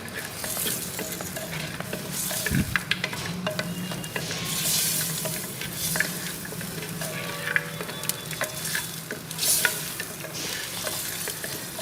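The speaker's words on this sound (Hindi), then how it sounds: "बीफ ऐड करके 3 से 4 मिनट तक इसकी बुनाई करें।" Marinated beef frying in melted butter and ghee in a pan for korma, with a steady close sizzle and repeated scraping stirs throughout.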